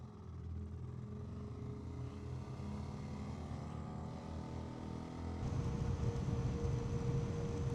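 Honda XR650L single-cylinder motorcycle engine at wide open throttle on a night ride, a steady droning roar with rising pitch that swells louder in the final seconds, accompanied by wind rush and no talking.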